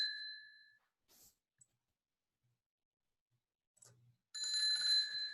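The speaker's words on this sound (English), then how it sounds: "If you hear a bicycle bell, there may be someone behind you trying to get by." A bicycle bell rings twice with clear metallic tones, separated by a long quiet gap with faint clicks, the second ring louder and more sustained.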